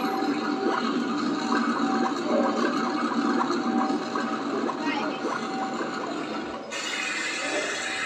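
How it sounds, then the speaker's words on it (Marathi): Flowing water like a waterfall, a steady broadband rush that holds at an even level for about eight seconds, then shifts slightly brighter near the end. "हा पाण्याचा आवाज आला."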